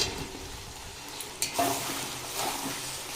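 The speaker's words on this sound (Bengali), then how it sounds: "আবারও বেশ কিছুক্ষণ কষিয়ে নেব" Chicken and potatoes sauté in oil in a kadai with a soft, steady sizzle and occasional stirring scrapes, fairly quiet and close, with no voices.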